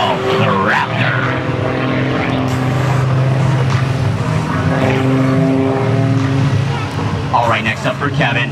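A 400-horsepower aerobatic propeller airplane flying the Raptor maneuver at the NRV SkyFest 2012 airshow gives off a loud, steady engine roar that swells and shifts in pitch, with voices faintly underneath.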